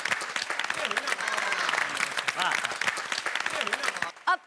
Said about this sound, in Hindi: गोकुलधाम, आप लोग अपने लिए जोरदार तालियां बजाएं।